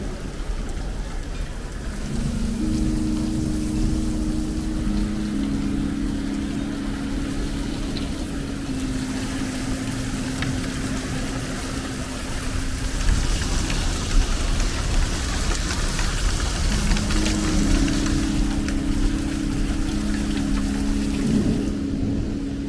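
Steady rain falls on a hiking trail in Switzerland, a continuous close hiss with faint tonal hums drifting in and out, and no voices.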